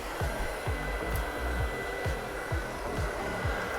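Hair dryer blowing steadily and close during a round-brush blowout for volume, its constant airflow roar carrying a faint repeating low whoosh as the brush rolls through the hair.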